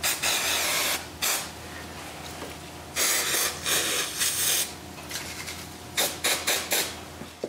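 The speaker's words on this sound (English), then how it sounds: "I apply some pressure and spray some accelerator." Accelerator is sprayed from an aerosol onto glue on a carved wooden woodpecker model in several close, loud hissing bursts separated by short pauses.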